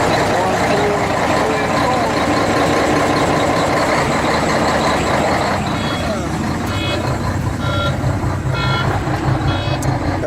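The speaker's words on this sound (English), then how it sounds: "That's just the air buzzer going off." An idling 18-wheeler truck sounds its low-air-pressure buzzer in repeated pulsing beeps near the end, over a steady diesel rumble with people talking nearby.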